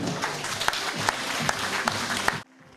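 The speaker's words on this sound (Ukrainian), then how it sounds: "Меморандум підписано оплески" Applause in a hall in Vinnytsia after the signing of a three-way memorandum between farmers and scientists of a feed institute, steady and fairly close with a few sharper claps standing out, stopping abruptly near the end.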